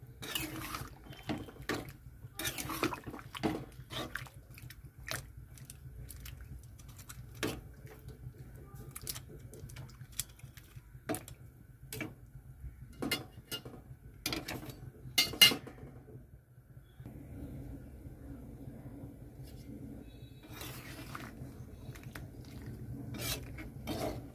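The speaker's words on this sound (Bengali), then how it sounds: "এখন আলুগুলো একটু নেড়ে দিচ্ছি" Potato slices for homemade chips being stirred in a pan, giving irregular scraping and rubbing strokes with occasional sharper clinks against the metal over a low steady background, close and fairly quiet.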